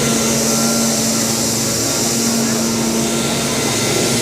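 Vacuum trucks run nonstop in a parked row before cleaning begins, a loud, steady roar with a constant hum throughout.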